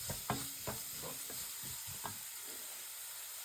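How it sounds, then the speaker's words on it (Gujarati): Chopped onions sautéing in hot oil with garlic for a vegetarian burrito bowl, a steady close sizzle broken by several sharp scraping stirs of a spoon in the pan during the first two seconds. "હવે આપણે નાખીશું કાંદાથી વઘાર કરવાનો છે ને."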